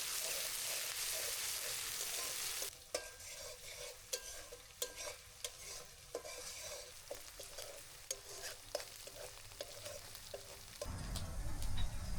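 Onion paste frying in hot oil, a steady loud sizzle that softens after a few seconds, with repeated stirring scrapes and clinks throughout and the hiss swelling again near the end; no talking.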